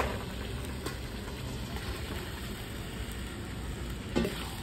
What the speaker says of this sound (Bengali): ঢেলে দিলাম, ভালো করে কষে নেবো